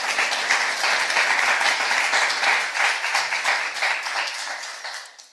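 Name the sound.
audience applause at climate panel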